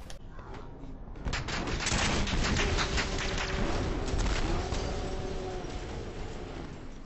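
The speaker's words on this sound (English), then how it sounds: "The RPG, the explosions in the game, so satisfying to use." RPG blasts and explosions in the video game Insurgency Sandstorm, a loud dense barrage of booming blasts and rattling gunfire that swells and sustains for several seconds, with no voices.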